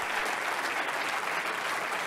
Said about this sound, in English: let's give the Lord a hand clap of praise